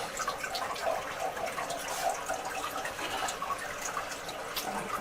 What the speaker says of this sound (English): You can see the water is running.